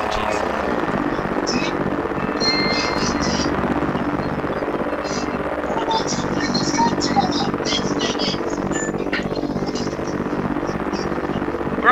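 A drone flies in Garry's Mod with a continuous buzzing whir that holds steady and fairly loud, while people talk over it.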